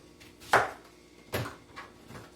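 A knife chopping onion on a cutting board in a home kitchen, three distinct thuds spaced unevenly, the first loudest, close and without talk.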